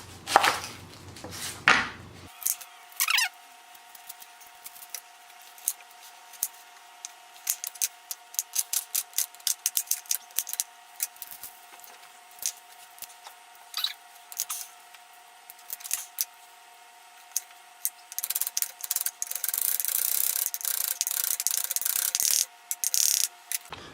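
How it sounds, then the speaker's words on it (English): A knife chops onion and garlic with irregular, sharp clicks and taps on a board. The clicks come in quick bursts and grow busier toward the end. No one speaks. "So let's cut up that onion and garlic now to add to the hot oil."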